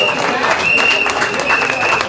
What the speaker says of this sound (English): I need to see you cheer, wave your scarves, clap your hands